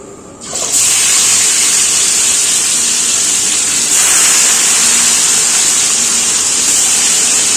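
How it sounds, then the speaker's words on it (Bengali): Marinated chicken pieces sizzle in hot refined oil and ghee, a loud steady frying hiss that starts abruptly and continues without a break, swelling slightly partway through, with no talking. "এবার এই যে এখানে ম্যারিনেট করা যে চিকেনটা রেখেছি না, তো এইটা আমি এক এক করে ভেজে নেব"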